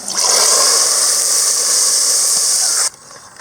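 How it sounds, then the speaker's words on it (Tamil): Golden fried onions are poured into a mutton curry in a village kitchen, setting off a loud, steady, hissing sizzle that cuts off abruptly near the end, leaving a faint residual crackle. "இதை வந்து இந்த குழம்புல ஊற்றிடலாம்."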